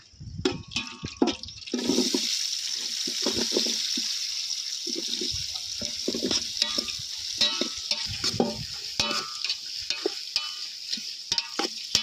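Half a kilo of onions frying in hot oil with spices for a village-style chicken curry, a steady close sizzle running throughout while a spatula scrapes and stirs the pan in short repeated strokes.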